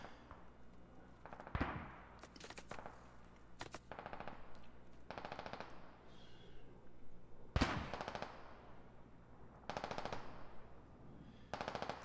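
Machine gun fire in the Squad military shooter during a milsim operation set in Kabul: repeated rapid bursts, some near and loud, others more distant, with sharp single cracks between them and no talking.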